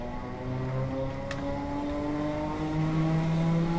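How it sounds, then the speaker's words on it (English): An old electric multiple unit train with DC traction motors gives off a steady droning whine, with several tones slowly rising in pitch as it accelerates under constant rumbling, close and continuous. "This classic sound is pretty distinct with old electric multiple units with DC motors."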